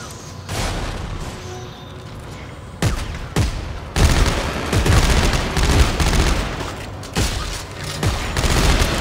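SMG fire in Dead Space 3 bursts out loud and close in repeated sharp volleys, rapid strings of shots with brief gaps between them, and busy mechanical clatter behind.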